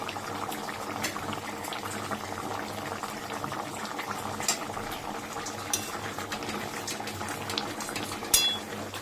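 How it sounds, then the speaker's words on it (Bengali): Raw jackfruit and prawn curry boiling in a pot, a steady close bubbling simmer with a few light clinks of utensils against the pot, no talk. "আর এইটাও ফুটে এসছে।"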